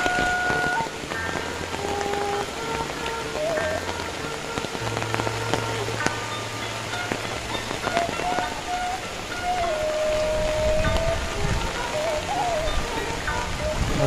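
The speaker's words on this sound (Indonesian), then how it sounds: "Cuacanya hujan" Rain falling steadily on a rural village in Hargotirto, Kokap, a dense continuous patter of drops on surfaces that stays loud and even, with faint tonal sounds in the background.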